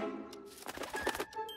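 A cartoon bird gives a short burst of soft cooing, a few rounded warbling notes close up in a children's animated series, heard alone without talk.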